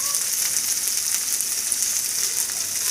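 Dried red chillies frying with onion in a pan, a steady, close, bright sizzle with no breaks.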